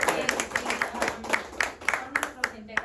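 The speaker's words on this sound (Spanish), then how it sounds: "yo quería que les diéramos un aplauso" Sparse, uneven clapping from a small church congregation honoring children after their first communion, individual claps distinct and irregular, with faint voices murmuring beneath.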